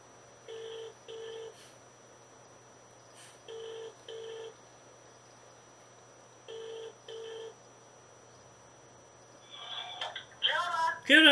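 A telephone call rings out in repeated double-burst ringback tones separated by silent gaps, followed near the end by someone starting to talk.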